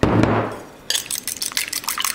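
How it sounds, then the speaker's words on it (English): A fork beats one egg with a teaspoon of water for pie crust, heard as quick, irregular wet clicking and tapping against the bowl after a brief rumble at the start. "Use my fork, Like I said, we're gonna take 1 egg, just a teaspoon or so of water."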